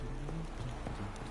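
Hooves of Roach, the horse in The Witcher 3, give a few faint rhythmic clops over a dense, low background of game ambience in a brief moment.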